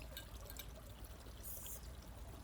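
Beer pours from a can or bottle outdoors in the woods, a soft continuous trickle and fizz over a low background rumble, faint and with no talking.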